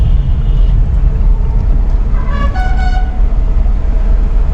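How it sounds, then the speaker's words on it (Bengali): A vehicle horn sounds once for under a second on a steep mountain road while a bus approaches, a short tonal honk rising above the steady rumble of the moving car and road noise. "এত হর্ন দেওয়ার কি আছে ভাই, এত হর্ন দেওয়ার কি আছে?"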